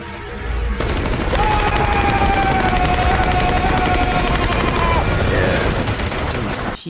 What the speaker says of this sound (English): Just releases all pent-up emotions by shooting a gun.